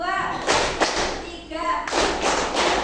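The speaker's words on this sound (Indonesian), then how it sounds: "Jadi gini, tepuk 1, tepuk 2, tepuk 3, gitu ya" Students at an Indonesian madrasah ice-breaking session clap together in a counted focus pattern, sharp group claps landing in a loose rhythm of several beats, with a speaking voice over and between them.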